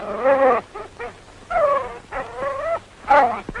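A hound whimpers and fusses outside a hotel in a series of short whiny, nasal cries with brief pauses between them, close and clear.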